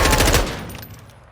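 A rapid automatic weapon burst fires in Modern Warfare 2 / Warzone 2 at a 9-meter range, loud and close for under half a second, then a fading ringing tail.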